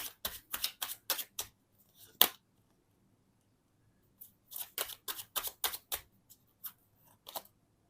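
Tarot cards being shuffled and drawn, a series of crisp, close riffling snaps in two bursts separated by a quiet pause, with no talk over them.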